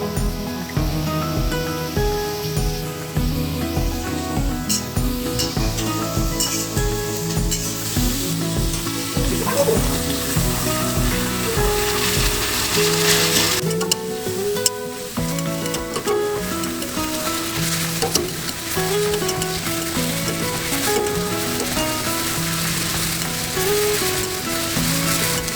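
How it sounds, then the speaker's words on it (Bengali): Onions frying with a pinch of salt in a pan for chicken kasha give off a constant sizzle, close by, while background music plays over the cooking throughout. "একটুখানি লবণটা দিয়ে নিলাম, যাতে তাড়াতাড়ি পেঁয়াজটা মজে যায়"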